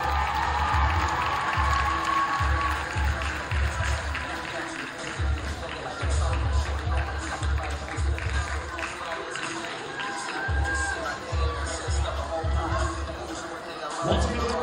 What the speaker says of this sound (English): let's give a big round of applause to our coaches, Miss Head Coach Natasha Cook and Assistant Coach Nicole Tucker